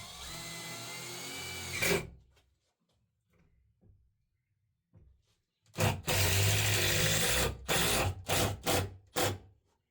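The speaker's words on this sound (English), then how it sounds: "when I'm putting my screws through here, I'm actually zigzagging a little bit" A power driver sinking screws through a board in a grease inspection pit, a short burst of driving, a quiet pause, then a longer run of driving that ends in several quick stop-start pulses, close and loud.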